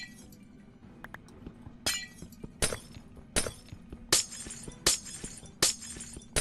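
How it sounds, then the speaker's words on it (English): In Minecraft, glowstone blocks break one after another with a crisp glass-shattering effect, about seven sharp crashes in a fairly regular rhythm over faint background noise. "We should add a different sound effect for breaking glowstone."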